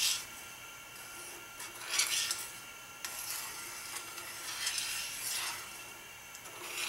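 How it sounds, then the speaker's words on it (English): Molten metal stirred and scraped in a crucible, a tool rasping back and forth along the bottom and sides in repeated rough strokes, close and moderately loud with no talking. "I'm just going to keep it mixing. Back and forth, all around, scraping the bottom, scraping the sides,"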